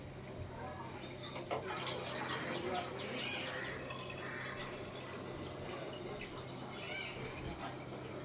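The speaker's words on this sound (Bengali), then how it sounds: "ছাতুর মধ্যে দিয়ে দিলাম জল" Water is poured into sattu (roasted gram flour) in a bowl, making a soft, continuous trickle at close range, with faint birdsong chirping in the background.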